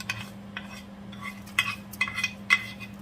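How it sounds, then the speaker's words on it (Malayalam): A spoon stirs fried mustard seed seasoning into bubbling sambar curry in a pot, quiet scraping and a few metallic clinks spaced about half a second apart over a low steady hum. "നമ്മുടെ കടുക് വറുത്തത് ഇതിനകത്ത് ഇടുവാണ്"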